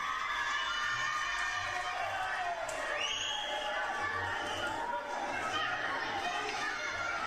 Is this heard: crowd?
yes